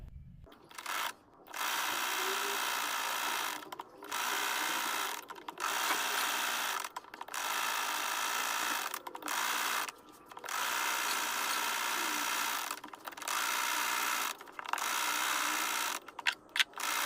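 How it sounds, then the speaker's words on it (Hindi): Sewing machine stitching blouse fabric in long steady runs, pausing briefly about eight times between bursts, close and fairly quiet. "चलिए सिलाई लगा लेते हैं पहले।"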